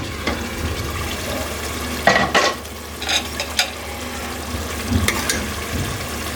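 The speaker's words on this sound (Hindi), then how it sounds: "गोश्त को मैंने पहले भी भुना था। 2-4 मिनट और भून लेती हूँ" Beef frying in a pot while being browned for biryani, giving a steady close sizzle with a few louder stirring bursts and scrapes.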